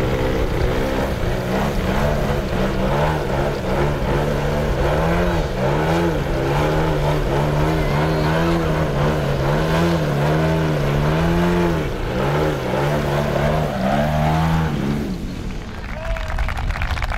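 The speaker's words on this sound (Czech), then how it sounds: "nádhernou akrobatickou show Ondřej Celba s letounem Falemo Velox Revolution." Falemo Velox Revolution model aircraft, 2.60 m wingspan and 9 kg, flying an aerobatic display at an airfield anniversary event, its engine droning and wavering in pitch continuously and loudly before dropping away near the end.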